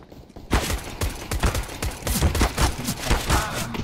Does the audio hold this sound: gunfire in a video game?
yes